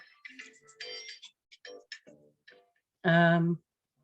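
A mobile phone ringtone sounds once, a loud half-second tonal burst, right after a person speaks indoors during a talk on mindfulness life coaching.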